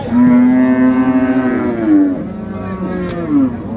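Native-breed calves at the Hazratpur cattle market low loudly and close by: one long, drawn-out moo is followed by a shorter second call, with faint market noise underneath.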